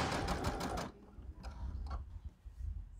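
A sewing machine stitching fabric: a short, fast burst of close mechanical ticking for about a second, then it stops, leaving soft handling noises of the cloth and a faint low rumble.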